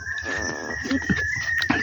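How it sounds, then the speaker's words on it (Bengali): Birds call in dense jungle in Purulia district, with a few short clucking notes over a steady high thin whine and outdoor background. "চারিদিকে জঙ্গল আর পাখির ডাক শোনা যাচ্ছে।"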